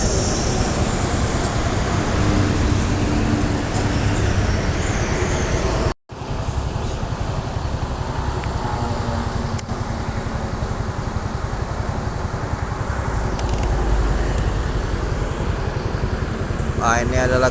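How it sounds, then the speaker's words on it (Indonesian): A tour bus coming in from the direction of Java passes along the road by a roadside rest stop near Palembang, a sustained loud engine and tyre roar with traffic noise, a person talking over it. "Nah, ini ada lagi bus dari arah Pulau Jawa."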